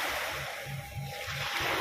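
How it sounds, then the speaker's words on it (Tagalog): Ocean waves wash onto the shore at a seaside in Lobo, Batangas, a continuous loud surf roar with rhythmic low surges and some wind rumble. "Nandito po kami sa tabing dagat"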